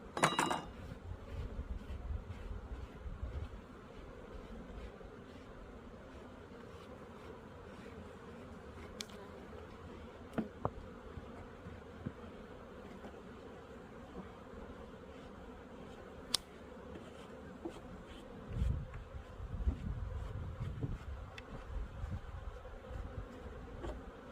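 Dense buzzing of many honeybees around a hive being split, steady and close, with occasional soft clicks and knocks of equipment.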